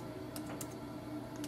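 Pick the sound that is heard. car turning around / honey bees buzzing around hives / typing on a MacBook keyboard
typing on a MacBook keyboard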